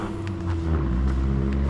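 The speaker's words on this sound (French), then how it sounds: "Donc on entend le bruit des voitures et des motos, surtout le dimanche." Cars and motorbikes pass on a road near a wooded forest trail, giving a continuous low engine rumble with a rising tone, fairly close, over light wind noise.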